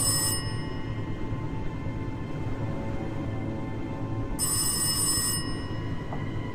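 A telephone rings in the horror video game Rise of Insanity, two bright bell bursts, one at the start and another after a long pause, over a steady low ambient drone with no talking.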